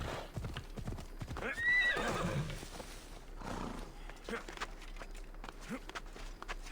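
Horse hooves in Assassin's Creed Odyssey clip-clop along at a walking pace, with a horse whinnying partway through over a busy game soundscape.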